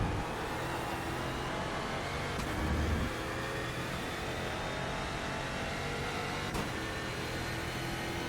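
A NASCAR Euro Series stock car engine drones steadily at Donington Park National in iRacing, a constant mid-level roar with a brief rise in revs and no speech.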